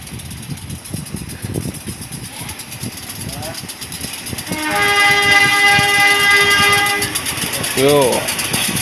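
Siliwangi passenger train pulling into a station, its engine rumbling loud and near before a long sustained horn blast rises over it, with people talking throughout.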